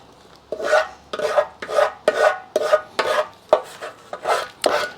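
Sanding Bondo body filler on the bodywork of a 1973 TC125 motorcycle, a rhythmic rasping scrape repeated about nine times in steady strokes, close and fairly loud with no talk.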